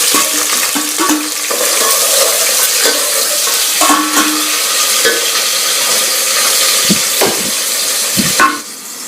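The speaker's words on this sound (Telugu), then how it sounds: "ఉల్లిపాయలు అయితే మంచిగా బ్రౌన్ కలర్ వచ్చే వరకు వేగాలి." Onions fry loudly in oil for a curry, a dense continuous sizzle close up, broken by scraping stirs and occasional clinks of the spoon on the pan.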